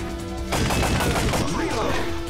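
Continuous loud, close arcade-style gunfire from the PlayStation version of Time Crisis, played on an emulator, with rapid overlapping shots and no speech.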